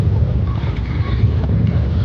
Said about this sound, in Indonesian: Nggak ombak sih, angin.